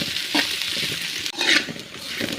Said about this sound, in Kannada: ಆಯಿಲಲ್ಲೇ ಹುರಿಬೇಕಾಗುತ್ತೆ ಈ ರೀತಿಯಾಗಿ ಸ್ವಲ್ಪ ಎಣ್ಣೆ ಎಲ್ಲ ಬಿಡ್ಕೊಳ್ಳೋವರೆಗೂ ಇದನ್ನು ನೀಟಾಗಿ ಹುರ್ಕೋಬೇಕಾಗುತ್ತೆ